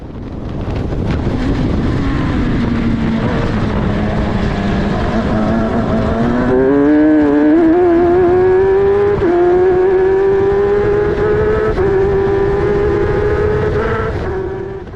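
An F1000 race car engine at Oulton Park screams loudly and close, its pitch climbing steadily through a series of upshifts with brief dips at each change, under strong wind buffeting.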